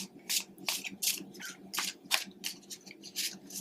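A tarot deck shuffled by hand, close and fairly loud: steady rhythmic papery swishes, roughly two or three a second, over a low background hum, with no voice.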